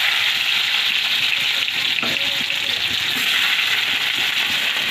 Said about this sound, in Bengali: তেল গরম হয়ে গেছে, আমি এবার দেবো এখন পেঁয়াজ 150 গ্রাম পেঁয়াজ